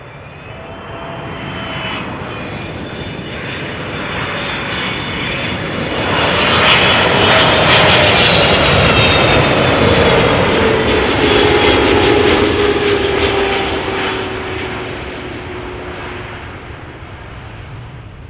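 A KLM Boeing 777-300ER, ten years old and inbound from Vancouver, lands at Amsterdam Schiphol, its engine roar and whine building loud and close, peaking mid-pass with crackling rumble, then easing away.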